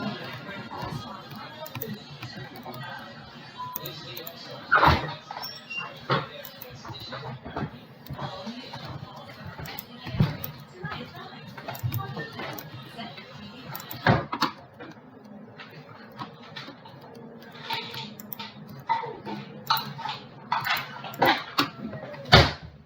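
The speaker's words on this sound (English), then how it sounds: "I'm just hoping that when I open the gate, that dog's not going to attack me" A skinny dog behind a gate barks in sharp, irregular bursts and whimpers between them, fairly close but modest in level, with faint outdoor background noise.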